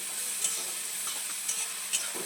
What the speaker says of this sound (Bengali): নুনটা টমেটো এবং ক্যাপসিকামের সঙ্গে একটু নেড়ে চেড়ে নিচ্ছি